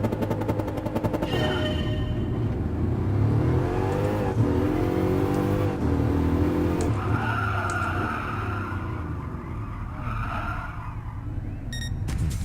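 A Bugatti Veyron in the Gran Turismo Sport racing game, its engine droning loud and steady throughout with rising and falling revs, tire skid noise and a few sharp clicks near the end; no talking.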